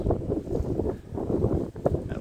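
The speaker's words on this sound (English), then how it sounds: "That wind's blowing hard now." Strong wind gusting outdoors ahead of a storm, a steady broadband roar buffeting the microphone with surges and brief dips, close and fairly loud throughout.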